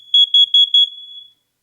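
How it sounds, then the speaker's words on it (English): Combination smoke alarms in a house all sounding together during a home inspection test, four loud piercing shrill beeps in a steady even rhythm, then a fading tone and silence. "And since this is post 96, this should make all alarms go off. And it does."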